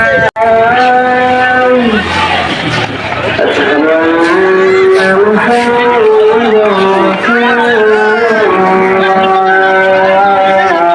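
Cattle at a crowded cattle market during a sale fair, lowing in long, loud, drawn-out moos over a dense background of crowd noise and people talking.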